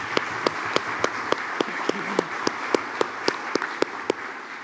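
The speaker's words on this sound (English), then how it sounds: "Let's give our panelists a big round of applause." A seated audience at a community event applauds its panelists: a full, sustained patter of clapping carries evenly throughout, punctuated by sharp, regularly spaced louder claps close to the microphone.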